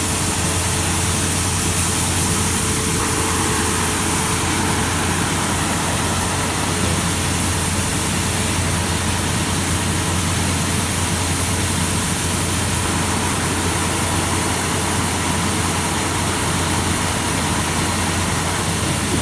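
A combine harvester engine drones steadily and loudly while harvesting sunflowers in a field, a constant dense rumble with a low hum and broadband roar running unchanged throughout, no voices.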